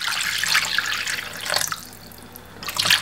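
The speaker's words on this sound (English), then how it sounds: "So what I'm going to do is add a cup of water." A cup of water poured into a cooking pot, a splashing, gurgling stream that rises and falls, pauses briefly, then surges again near the end.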